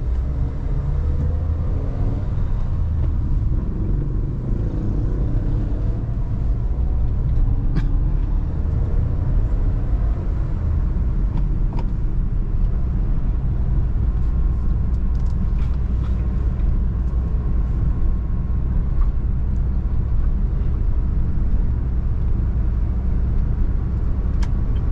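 Honda Brio hatchback pulling away in first gear, heard from inside as a steady low engine drone with road rumble that stays even throughout, no talk over it.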